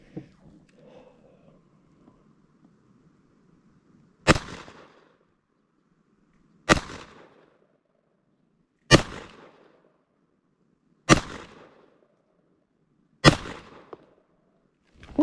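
A Beretta Model 87 Cheetah pistol fires five sharp, loud shots of CCI Mini-Mag 40-grain ammunition at a range, spaced about two seconds apart, each with a short decaying echo, after a quiet stretch of faint background rustle.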